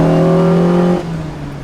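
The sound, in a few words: Lotus Exige S1 sports car engine revving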